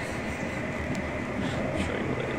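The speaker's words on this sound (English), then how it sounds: "so I'm on a train today." Steady low rumble and rattle of a passenger train riding on rails, heard from inside the carriage as a continuous close drone with no speech.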